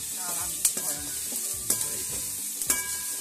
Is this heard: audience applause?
no